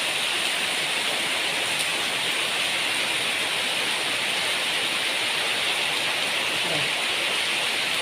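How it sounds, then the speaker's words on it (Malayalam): Heavy rain pours down in a steady, dense hiss that never lets up, filling the whole stretch at a fairly close, even loudness. "ഇവിടെ വ്യക്തമായിട്ട് മഴ പെയ്യുന്നുണ്ട്"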